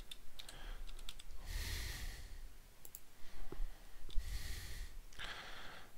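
Search term typed on a computer keyboard, a few quick key clicks heard amid faint breathing and two louder breathy swells, close and fairly quiet.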